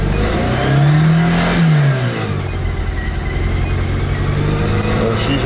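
Cold Datsun engine revs loudly with the throttle floored, rising then easing to a rough, steady drone under a running-rich idle with a sticking choke, close by.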